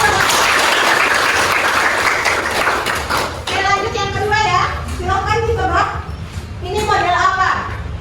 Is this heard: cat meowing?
no